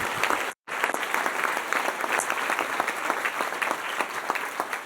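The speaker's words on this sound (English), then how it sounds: "how about a round of applause for the work of Stacy and her team" An audience applauds at a University of North Dakota state of the university address, a dense, steady round of clapping that fills the room after a brief silent gap near the start.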